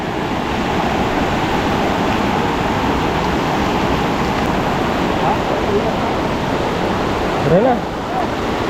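Rising water rushing at a dam during fishing, a loud continuous roar of churning water close by, with a brief voice over it.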